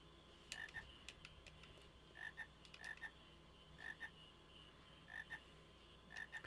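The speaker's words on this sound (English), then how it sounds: "Frogs." Frogs croak in Final Fantasy IX in a faint, steady rhythm of paired croaks repeating every second or so over a quiet ambient backdrop, with no talking.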